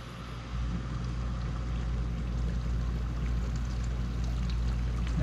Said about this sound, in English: I hear the water sloshing around in there.